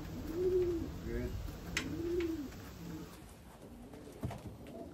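Racing pigeons coo in a loft, a few soft rolling coos repeating close by, with light rustling and a faint click near the end.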